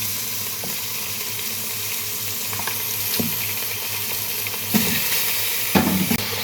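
Goat mutton frying with light golden onions in a pot, a steady close sizzle with occasional stirring clatters and small knocks, no talking.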